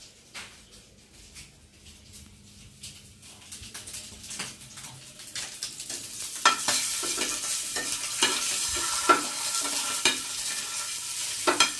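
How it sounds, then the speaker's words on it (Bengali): Eggs fry in oil in a pan, the sizzle starting quiet and growing louder and denser as a utensil repeatedly scrapes and stirs, close by and without speech. "ডিম ভাজা কমপ্লিট আর ডিম ভাজবো না আরও কিছুটা তেল দিয়ে দিলাম"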